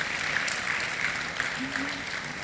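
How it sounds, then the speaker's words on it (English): Audience applause and congratulations at the introduction of the new WIMBIZ Board of Trustees, an even crowd clapping that holds steady for a couple of seconds, with faint voices underneath. "So another round of applause and congratulations."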